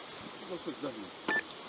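A short, bright electronic beep from a fishing bite alarm rings out once after some quiet murmured talk, with faint outdoor ambience throughout.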